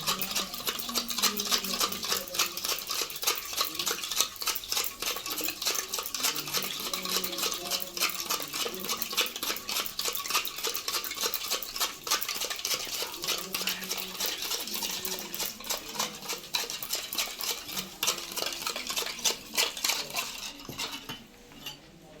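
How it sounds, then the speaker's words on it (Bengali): A spoon briskly stirring baking powder and baking soda into an eggless semolina cake batter in a bowl, rapid steady clinking against the bowl that runs nearly nonstop, close and alone. "বেকিং পাউডার আর বেকিং সোডাটাকে ভালো করে করতে হবে, গোলাতে হবে।"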